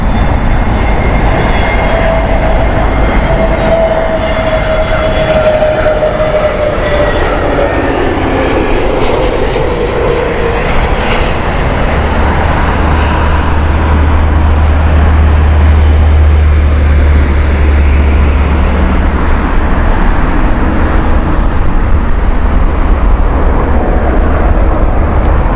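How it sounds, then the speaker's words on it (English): An Airbus A320neo jet airliner on the Oslo flight at Heathrow roars loudly and continuously, with engine tones that slowly shift in pitch as it passes, and no voices. "This is the Oslo flight here with the Airbus A320 Neo."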